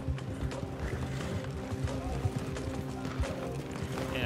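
Hooves of a nervous Arabian horse clatter in a steady, fast clip-clop rhythm in the Red Dead Online video game, moderately loud and continuous with faint background sound.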